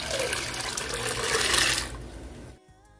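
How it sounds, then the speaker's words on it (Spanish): Hominy corn goes into a pot of Sinaloa-style pozole with a loud, close, rushing pour of liquid that lasts about two and a half seconds and then stops abruptly. "Voy a agregar el maíz."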